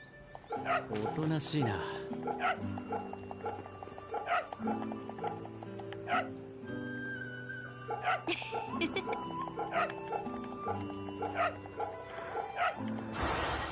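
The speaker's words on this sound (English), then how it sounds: "Gonna pet the dog while we're here." A dog in the video game Fate/Samurai Remnant barks and whimpers in short yips over a melodic game soundtrack, with a voice talking throughout.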